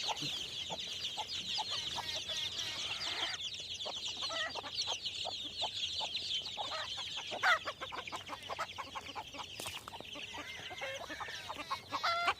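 A flock of chickens clucks and chatters continuously, with a rooster's calls mixed in, busy and close-up, at a chicken coop.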